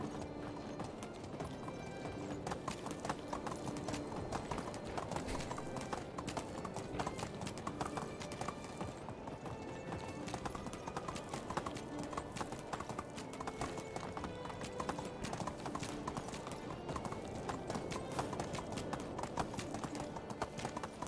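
In the video game Medieval Dynasty, a horse's hooves clip-clop at a steady, even trot throughout, fairly quiet, with no talk.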